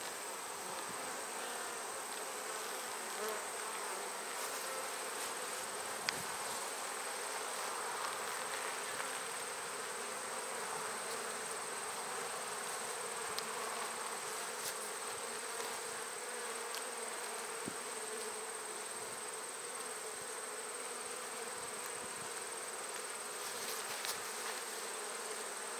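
Honey bees hum steadily at an open hive full of capped brood, a continuous moderate drone with faint scattered clicks and no talking.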